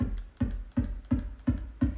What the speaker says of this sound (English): And that is the bass drum.